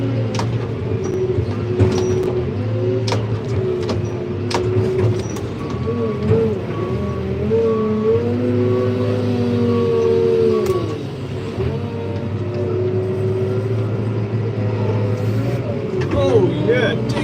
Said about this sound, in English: I've got this JCB in neutral. And it's still trying to push, which is good.